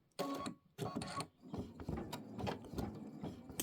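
An embroidery machine stitches a petal on a Kimberbell Wallflower quilt block, with close, rapid mechanical chattering in bursts that settle into a steady run.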